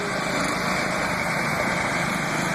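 A John Deere lawn tractor engine drones loud and close at a lawn mower drag race, a steady high-pitched buzz with no break and no talking.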